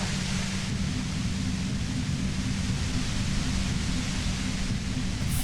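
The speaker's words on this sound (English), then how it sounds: "You hear through the white noise" Steady, dense white-noise hiss fills the soundscape in the video game Disco Elysium, holding at an even loudness throughout without breaks, with a low rumbling layer beneath it.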